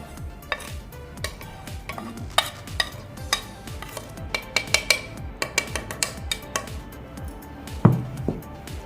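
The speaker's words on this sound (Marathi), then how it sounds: "हे सर्व मसाले असं एकत्र एका बावलमध्ये काढून घेते" Ground spices and salt being tipped and scraped into a bowl for a fish fry: light, close clinks and taps of a spoon on the bowl at irregular intervals, with a soft scrape and a louder knock near the end.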